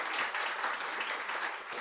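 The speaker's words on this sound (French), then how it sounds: "Vous pouvez les applaudir." An audience at a live scepticism talk event claps together in a dense, continuous round of applause, fairly loud and close, with no talk over it.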